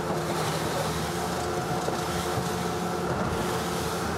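A Pirelli 880 Sport motorboat engine drones steadily at speed with the hull raised and trim lifted, with constant broadband rush of water and wind and no talking.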